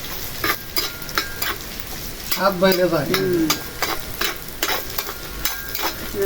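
Red amaranth greens tempered with nigella seeds sizzle steadily in a hot pan, while sharp scraping stirs tap through at an uneven rhythm and a brief voice-like tonal sound rises in the middle.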